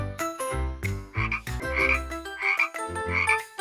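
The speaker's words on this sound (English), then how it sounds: "Hi, frog. What's your sound?" A frog croaks repeatedly in a quick, uneven series of deep, resonant calls, close and loud, with no talking.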